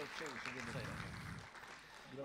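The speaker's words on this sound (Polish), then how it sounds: "Brawa!" Applause from an audience at an award gala, greeting a school team's first-place win in a competition; a dense, steady wash of clapping fills the room while a voice speaks loudly over it throughout.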